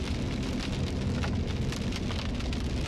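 Hail and heavy rain pound steadily on a car during a thunderstorm. The drumming is dense, loud and unbroken throughout, with no voices.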